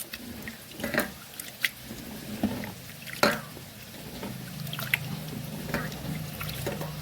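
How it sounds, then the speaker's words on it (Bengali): Gobindobhog rice being washed in water by hand, with close wet sloshing, squishing and dripping sounds in irregular bursts, moderately loud, without speech. "গোবিন্দভোগ চাল একটু ধুয়ে নেবো বেশি ধোবো না"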